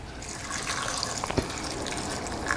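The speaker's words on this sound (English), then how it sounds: "then I'll add the rest of the water" Water pours into a pot of mushrooms cooking over high heat for soup, a soft running splash with faint clinks and drips, close and fairly quiet, no talking.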